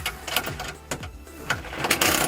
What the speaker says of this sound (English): with the 8mm we're going to remove a few bolts